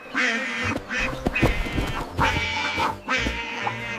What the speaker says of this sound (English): Mama Duck said, "Quack, quack,